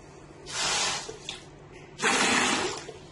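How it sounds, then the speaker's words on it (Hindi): A car washer pump kit's pressure gun sprays water in two strong hissing bursts, each about a second long and separated by a short pause, with no talk over it. "अब मैं यहाँ पंप स्टार्ट करता हूँ"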